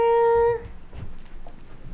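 A puppy greeting its owner at home lets out a single high, drawn-out whimper up close, which then fades into soft shuffling and faint rustling.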